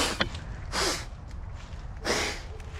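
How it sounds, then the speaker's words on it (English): Two short bursts of nose blowing into a tissue, each a breathy rush roughly a second apart, close to the microphone in a quiet room. "I'm blowing my nose off camera."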